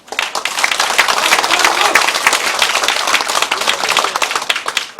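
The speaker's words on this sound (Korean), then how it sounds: "이분에게 열렬한 박수를 보내서" A crowd at a Korean election campaign committee's disbanding ceremony breaks into loud, close applause, a thick continuous burst of many hands clapping that stays full from start to finish.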